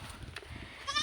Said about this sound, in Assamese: এয়া আমাৰ মালিকে ছাগলী আনিছে